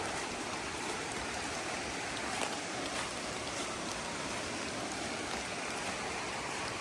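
The Whitewater River in North Carolina rushes beside a hiking trail, a steady, close, full-bodied roar of flowing water that stays constant with no voices.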